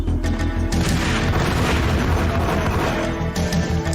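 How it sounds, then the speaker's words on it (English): A grenade blast in the Max Payne shooter, a dense, sustained low rumble of booms and crashes filling the whole stretch at steady loud level, with no clear single detonation standing apart. "I smell grenade cooking."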